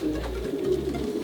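Low, steady cooing from a 2005 racing pigeon, a top performer in a South African fancier's loft, heard close and continuous with a soft throaty rumble throughout.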